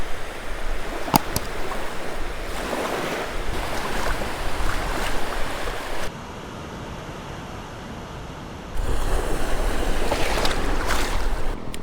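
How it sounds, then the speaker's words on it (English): Gulf surf washing up on the beach at Bob Hall Pier in Corpus Christi, a continuous roar of breaking waves mixed with gusty wind buffeting the microphone, briefly softer midway before the full wash returns. "let's just start off right here at the beach before we even get out there and spook anything off"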